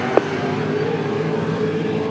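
A V8 Supercars touring car idles and creeps in reverse after a spin on a Tasmanian circuit, its low steady engine drone humming evenly throughout with a brief click at the start.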